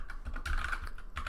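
Someone typing Python code for a beginner rock-paper-scissors program on a computer keyboard, quick soft key clicks in short clustered bursts, close and fairly quiet, with no talk over it.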